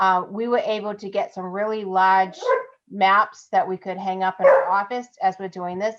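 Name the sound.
dog barking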